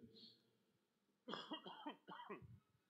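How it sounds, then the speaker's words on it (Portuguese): A few close, rough coughs in quick succession after a quiet pause, with a faint voice murmuring softly beforehand. "Estava sem tossir, rapaz, a tosse reapareceu agora à tarde."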